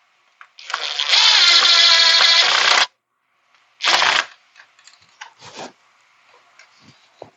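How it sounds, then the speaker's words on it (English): A power screwdriver drives screws into an in-wall cable management box with an electrical outlet, one long whirring run followed by a shorter burst, then small clicks and handling noises in near quiet. "Now I'm going to screw in this side."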